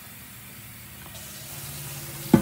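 A kitchen water tap runs to measure water for cupcake mix, a soft rising hiss of flow building over a couple of seconds before a sharper splash at the end.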